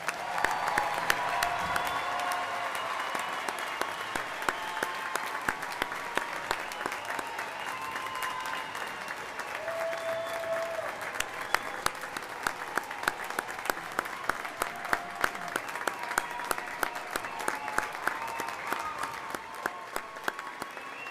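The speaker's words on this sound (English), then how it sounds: "please join me again in giving all of our graduates a well-deserved round of applause." A large audience at a fall quarter graduation ceremony gives the graduates a long, sustained round of applause, with dense, crisp clapping and crowd noise filling the hall.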